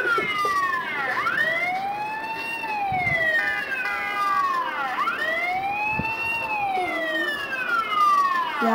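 An ambulance siren from a doctor video game wails in repeated rising and falling sweeps, steady and fairly loud, with no talking over it.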